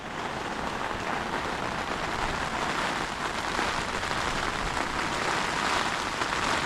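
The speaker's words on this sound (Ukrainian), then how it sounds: "І вітер, і дощ, мать, злива конкретно." Heavy rain and wind during fishing at a wild pond in Sumy region, Ukraine: a dense, steady roar of downpour and gusts that stays loud and unbroken throughout, with no voices.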